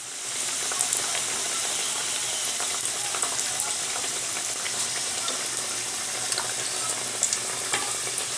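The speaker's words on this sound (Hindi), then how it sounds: "अब हम इन्हें फ्राई कर रहे हैं।" Samosas deep frying in hot oil at home, a steady close bubbling sizzle with faint crackles, continuous and alone without talk.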